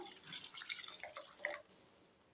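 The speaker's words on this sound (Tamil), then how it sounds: "இந்த டைமில் சிக்கன் வேகிறதுக்கு கொஞ்சமாக தண்ணி சேர்த்துக்கலாம்" Water poured into a pan of chicken gravy while cooking at home, a faint trickling and dripping splash for about a second and a half before tailing off into quiet.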